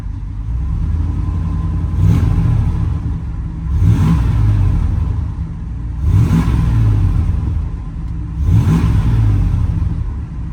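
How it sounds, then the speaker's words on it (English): A 1992 Ford F-250 with a 460 big-block V8 idles low, then revs up four times in evenly spaced bursts, each swelling and dropping back to a rumbling idle. "We'll give it a couple revs here."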